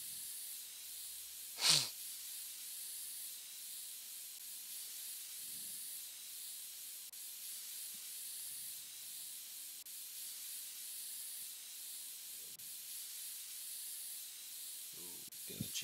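A single short aerosol spray burst hisses near the start while a GPU is cleaned in PC Building Simulator, followed by long stretches of near silence broken by a few faint low thumps.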